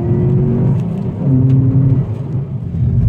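Naturally aspirated Ford Focus fitted with a larger 63 mm throttle body, its engine droning and pulling steadily under load from inside the car, with rising and falling harmonic tones and no talk.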